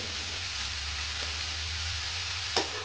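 Food sizzles and fries steadily in a pan, a dense hiss close up with one brief clink of a utensil near the end and no voices.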